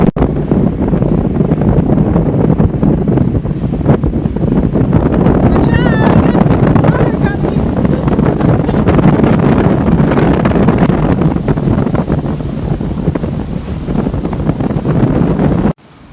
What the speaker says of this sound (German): Und es ist ein bisschen windig, was man, glaube ich, auch an den Wellen sehen kann hier.